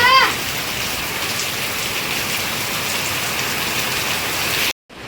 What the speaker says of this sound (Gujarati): બહુ ખતરનાક વરસાદ આવ્યો